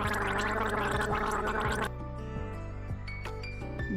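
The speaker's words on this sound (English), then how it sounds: "gargle" A person gargling liquid in the throat, a steady wet bubbling rattle that runs close and loud, then gives way to fainter scattered drips and squishes.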